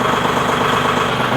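A diesel farm tractor with glow plugs idles steadily and loudly close by, a constant low rumble with no break or change in pace.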